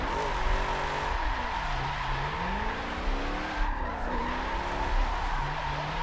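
A car drifting sideways in the Forza racing game, with a wavering engine whine rising and falling and continuous tire squeal and skidding, loud and near, with no talking.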